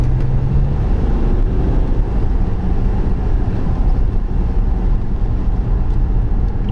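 BMW 430d Coupe M Sport diesel engine heard from inside the car, a steady loud low drone of engine and road noise with a brief throttle blip near the start, no talking.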